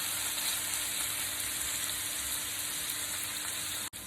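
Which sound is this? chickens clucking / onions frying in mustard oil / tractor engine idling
onions frying in mustard oil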